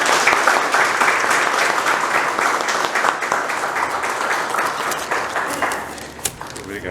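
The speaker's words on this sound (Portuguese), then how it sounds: "uma salva de palmas, nossos fundadores" An audience applauds the founders at a 45th-anniversary gathering of a Spiritist centre, a dense, sustained clapping that fades slightly toward the end, with voices mixed in.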